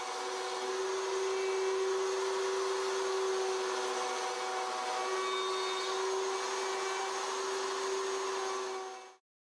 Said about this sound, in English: Simply clamp the wide board to the beam and route the first full width section of the template.